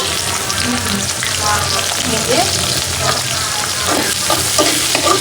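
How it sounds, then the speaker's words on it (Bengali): Chopped onions sizzle and fry steadily in a hot pan, a dense close crackle that runs the whole time with occasional stirring scrapes and no talk. "পেঁয়াজটা ভাজা ভাজা হোক, তারপরে শাকগুলো দিয়ে দিব"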